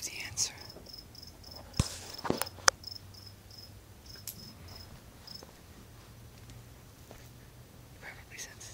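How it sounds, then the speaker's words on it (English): Crickets chirp in steady repeated pulses, fairly faint and continuous, with a few louder brief noises and soft breathy sounds near the start. "I hope you could hear the crickets"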